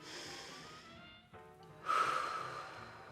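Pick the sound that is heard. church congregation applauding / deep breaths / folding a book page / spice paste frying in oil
deep breaths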